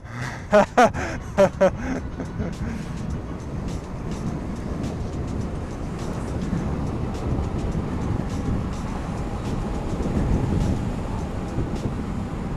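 DIY electric bike ridden at speed, a steady rushing roar of wind and motor hum with a few sharp clicks near the start, loud and continuous.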